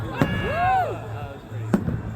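New Year's Eve 2024 fireworks in Kirkwood, sparkly shells among them, burst in two sharp booms about a second and a half apart, with a whistling rise-and-fall streak between them over a low rumble and faint crowd voices.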